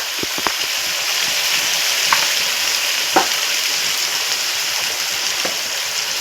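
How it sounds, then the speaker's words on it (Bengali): Spice paste with turmeric and chilli powder fries and sizzles steadily in a pan for a spicy red egg curry, a constant close hiss with occasional clicks of stirring and no one talking. "এখন পেস্ট করে রাখা মশলাগুলো দিয়ে দেব। দিয়ে দেব হলুদ গুঁড়ো, লঙ্কার গুঁড়ো"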